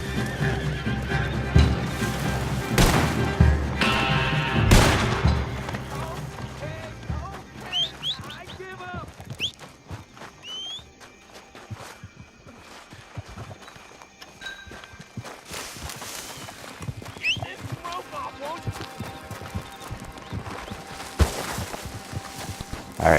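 In Red Dead Redemption 2 Online, a horse whinnies loudly several times and its hooves clip-clop at a walk, with a person talking over parts of the scene.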